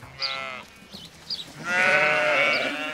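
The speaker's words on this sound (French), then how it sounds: "Les agneaux suivent leur mère dans leur vie de plein air et apprennent à communiquer avec le troupeau dans la langue des bêlements." Sheep and lambs of an old brown breed bleat in an outdoor flock, several harmonic calls overlapping at close range, a short cry first, then a long loud chorus of bleats.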